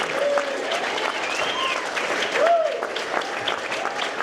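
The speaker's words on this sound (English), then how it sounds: "So let's give a round of applause to the graduates for that." A graduation ceremony audience applauds the graduates with steady, continuous clapping throughout, while a few tonal voice-like sounds rise briefly above it.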